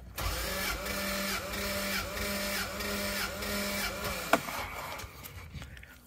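A 1997 Toyota Land Cruiser with the 1FZ-FE engine cranks on the starter during a compression test, a steady rhythmic whirring chug lasting several seconds, close by, before stopping.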